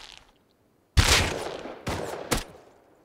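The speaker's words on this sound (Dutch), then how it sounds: "Hij had 3 schoten nodig van dat ding." Three loud gunshot blasts in the video game Rust, the first heavy with a long decaying tail, followed by two sharper reports in quick succession.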